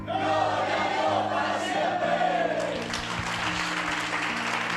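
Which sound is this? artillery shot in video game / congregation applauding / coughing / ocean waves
congregation applauding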